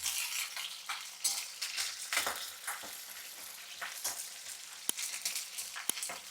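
Broad beans frying in a pan for pickle, a steady sizzle with spoon stirring and scraping through the hot oil, plus a couple of sharp clicks against the pan.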